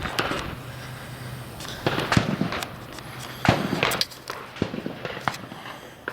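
Sharp gunshots from a stock Glock 19 pistol with stock trigger and connector crack out in irregular bursts, several reports spaced a second or so apart and a few close together, moderately distant with no talking.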